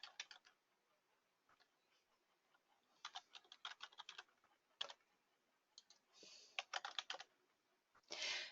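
Login credentials being typed on a computer keyboard: irregular bursts of crisp key clicks, close and quiet, with short pauses between runs and a denser flurry of keystrokes toward the end.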